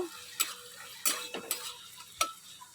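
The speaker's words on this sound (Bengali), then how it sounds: "এখানে আলুটা কষাচ্ছি আলুটা কষাচ্ছি বলছি আলুটা ভাজছি" Potatoes fry in a pan while a spatula stirs them, with five sharp scraping knocks at uneven intervals over a faint, low sizzle.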